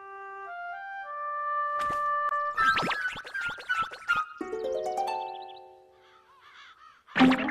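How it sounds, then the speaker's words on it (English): Crows caw several times in a farmyard setting in an animated children's story, harsh calls standing out clearly among melodic chimes and bouncy cartoon-like tones, with a final loud caw at the end and no talking. "Pig could hear some crows."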